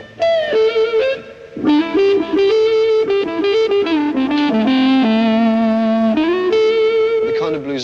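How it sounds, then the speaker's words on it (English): A 1964 Gibson SG electric guitar with the tone control rolled off plays a bluesy lead in the smooth, whining woman tone, sliding and bending notes in a continuous close phrase. "a kind of whining noise, usually described as woman tone."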